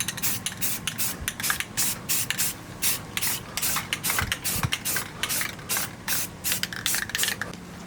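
Spray paint goes on car wheels as a second, heavier coat: a series of close, hissing bursts of varying length with short pauses between them, and a faint engine hum underneath, with no talk.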